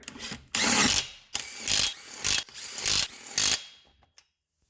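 Impact gun firing wheel nuts onto the hub of a 2013 Hyundai Santa Fe Sport, five loud close bursts of hammering whir separated by short pauses, then a final small click, with no talking.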